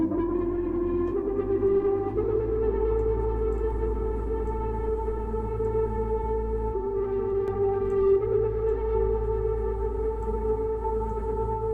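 Output Exhale Kontakt vocal instrument playing a wormhole patch: a dense, sustained electronic vocal drone with steady tonal layers that shift pitch every few seconds, heard alone without talk.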